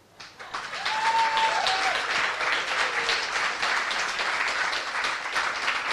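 Luncheon audience bursts into applause for a state chief justice, a dense, even wash of many hands clapping that swells quickly after a quiet start and holds steady, with faint voices underneath.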